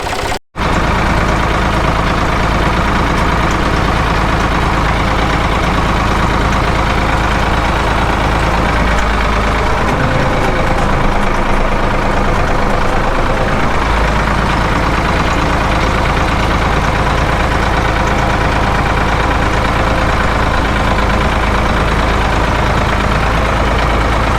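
A Ford 4000 tractor pulls a roller across grass fields in high ratio first gear, its diesel engine droning loud and steady at close range for the whole stretch, with no speech.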